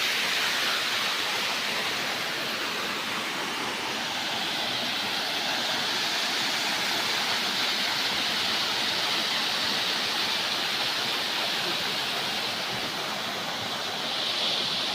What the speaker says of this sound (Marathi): अंबाजोगाईतील हा धबधबा आहे.